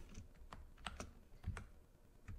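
Keystrokes on a computer keyboard while entering Python code, a handful of light, irregular clicks spread over a couple of seconds, close and fairly quiet with no talking.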